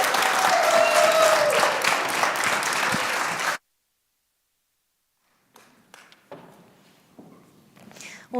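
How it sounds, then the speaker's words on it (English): An audience at a morning community summit breaks into energetic applause, a dense burst of clapping that stops abruptly, followed by quiet footsteps, a few scattered taps and low voices. "So let's give her that very energetic clapping that y'all were doing earlier as she comes on up."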